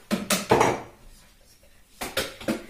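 Cups and dishes clink while coffee is being made, in a few separate bursts of sharp ceramic knocks and rattles with a quiet pause between them and no voices.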